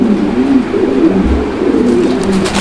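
Fancy pigeons kept for sale coo repeatedly, low throaty calls overlapping close by against a steady background hum, with no one speaking.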